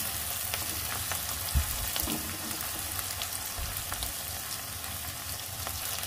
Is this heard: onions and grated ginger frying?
yes